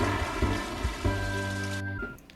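Steady in-game rain in Harvest Moon: Tree of Tranquility, a soft continuous patter beneath gentle background music with a few light thuds.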